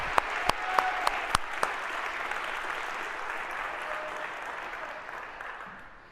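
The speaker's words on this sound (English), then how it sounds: "a huge round of applause for everyone that makes this possible" A university lecture hall audience applauds steadily for several seconds, with a few sharp louder claps or thumps near the start before the clapping slowly fades.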